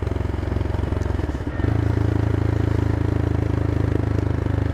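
A CCM Flat Tracker motorcycle engine thrums steadily through its exhaust while riding at about 40 mph, a loud, even drone with a brief dip partway through before the throttle picks back up.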